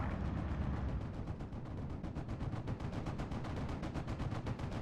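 Dense, rapid gunfire from Steel Division: Normandy 44 during a 4v4 Pegasus Bridge battle, with machine-gun bursts and rifle fire layered into a continuous loud roar. No one speaks over it.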